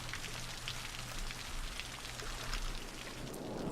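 Steady rain in the city-building game Cities: Skylines, a dense, even hiss of drops falling without pause across the whole stretch, no voices over it.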